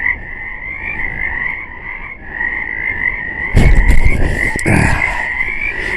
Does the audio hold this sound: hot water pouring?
no